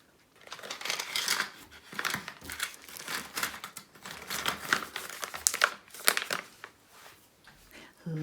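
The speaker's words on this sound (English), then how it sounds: "Taking it out of its protective bag." A plastic protective bag around a diamond painting canvas crinkles and rustles in irregular close bursts while the canvas is drawn out of it, loud crackles alternating with quieter pauses.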